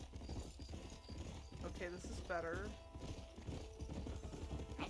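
Horse hooves clip-clop steadily on a dirt street in the Western game Red Dead Redemption, a continuous close rhythm running under a man's speech.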